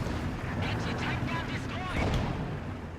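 Mortar fire thuds and rumbles in Company of Heroes 2, a dense battlefield barrage of muffled impacts and booms layered continuously, moderately loud with a swell near the end.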